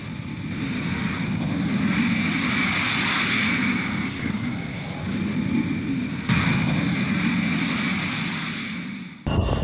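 A departing airliner's engines roar loudly and continuously from nearby, a broad rumble with shifting tone and a brief lull before the noise returns, then cuts off abruptly.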